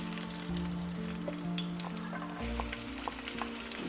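Garlic and onion fry in a pan for gluten-free pancit, a continuous soft sizzle with occasional faint clinks, fairly quiet and steady throughout with no talking.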